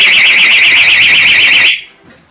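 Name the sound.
personal alarm attached to motorcycle going off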